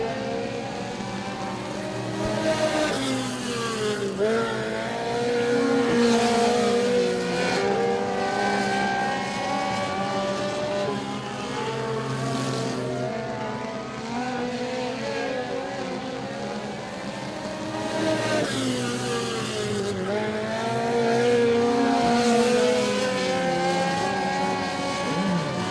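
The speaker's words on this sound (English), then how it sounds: "Shane Workman out of Lawrenceburg, Tennessee, building up a pretty good lead over Gwen Jones in the 93 machine" Stock cars race around Clarksville Speedway, a steady drone of engines that rises and falls as cars pass, loud and continuous throughout.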